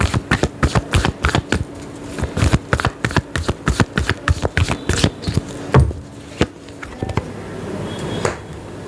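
A deck of playing cards is shuffled close up in a quick series of sharp riffling bursts. The cards clatter loudly at first, then the sound thins into scattered taps and soft handling noises.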